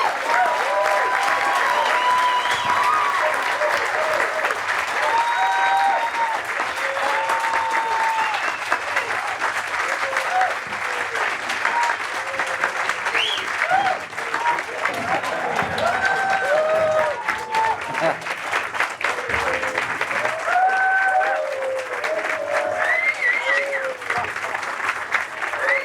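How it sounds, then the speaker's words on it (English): Sustained applause from a conference audience at a panel session in Boulder, Colorado, a dense even wash of clapping lasting the full stretch with a few voices and light cheers mixed in. "So a big round of applause for Stefani."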